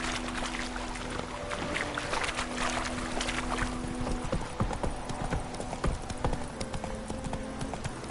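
Horse hooves galloping in The Witcher 3, a rapid, steady clip-clop rhythm close by, continuous throughout with faint background ambience.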